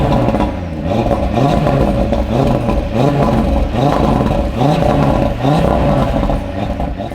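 A 2.5-liter five-cylinder engine in an Audi RS3 revs repeatedly, rising and falling in rhythmic pulls, loud and close with a throaty growl and no voices.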